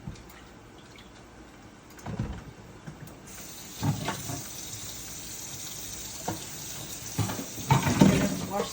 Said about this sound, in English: Washing my utensils, my cutting board.